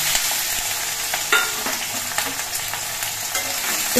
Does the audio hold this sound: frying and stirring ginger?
yes